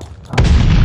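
A stun grenade goes off in Call of Duty Vanguard: a sharp, loud burst that rolls straight into a heavy, sustained low boom and rumble for nearly a second, with no voices.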